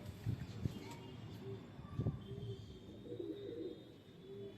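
Fantail pigeons coo softly in low, repeated throaty phrases close by, with a few brief thumps and rustles in between.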